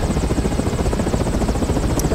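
A helicopter in Resident Evil 6, its rotor chopping loud and close in a fast steady pulsing beat that fills the whole moment, with no voices.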